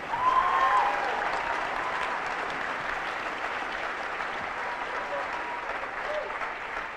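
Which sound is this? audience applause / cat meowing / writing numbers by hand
audience applause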